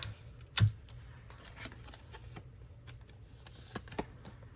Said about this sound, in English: I'm going to trim this just a little bit more because that's got a real curve to that edge.